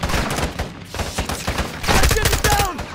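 Rapid automatic gunfire from the video game Call of Duty: Modern Warfare 2, a dense, loud, continuous barrage of overlapping shots and bursts with no pauses, close and harsh throughout.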